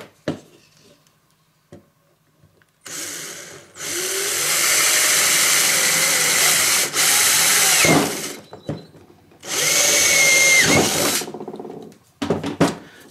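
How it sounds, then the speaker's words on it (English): A power drill bores holes through pieces of 2-inch PVC pipe, whining loudly in two long bursts of several seconds each, with short clicks and handling noise in between. "So just take all 4 pieces and just drill a hole directly through each one."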